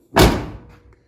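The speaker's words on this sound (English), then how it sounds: "This door closes pretty good" A single heavy Chevrolet square-body truck door slams shut close by, a loud solid thud that rings briefly and fades within half a second.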